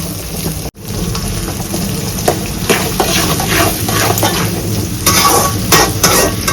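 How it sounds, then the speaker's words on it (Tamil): Shallots and garlic fry in a generous amount of oil, giving a loud, continuous close sizzle with scattered spatters and stirring scrapes, and a brief cutout near the start. "சின்ன வெங்காயமும் பூண்டையும் எண்ணெய் கொஞ்சம் தாராளமாகவே ஊற்றிக்கோங்க."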